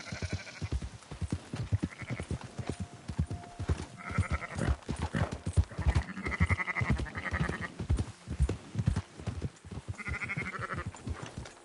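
Sheep bleat repeatedly in a PS4 video game, a string of nasal calls rising over a busy rhythmic backdrop of footsteps and game noise, some calls overlapping, fairly close and moderately loud.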